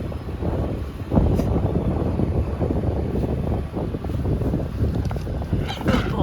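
Steady wind blows across the microphone at a roadside diesel stop, a continuous loud rushing roar with faint gusts and no clear speech.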